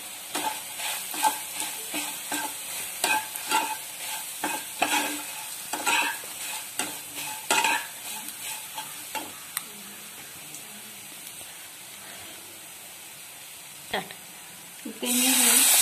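Two tablespoons of grated coconut sauté in a pan for a Navratri sweet: a soft sizzle under repeated scraping strokes of a spoon, which grow sparse and quieter toward the end, with a louder clatter at the close.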